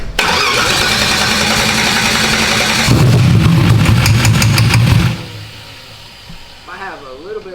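A turbocharged small block Ford running on methanol cranks and fires, a loud close starter whir breaking into a rough, rumbling engine catch, then cutting away to quieter sounds with a voice speaking.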